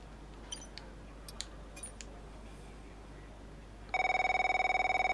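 In F1 23, a phone suddenly starts ringing after a few faint clicks, a loud, rapid electronic trill that continues to the end.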